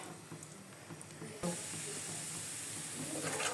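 Chopped onion hits hot oil in a wok and breaks into a steady, bright sizzle, the hiss jumping louder partway through and continuing without talk.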